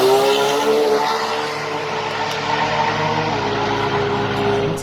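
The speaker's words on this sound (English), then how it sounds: "How fast this car takes off on the top end, over 200 miles an hour" A drag racing car, running passes in the low six-second range at over 200 mph, accelerates down the strip with a sustained, loud engine roar that holds steady from start to finish, with no voices.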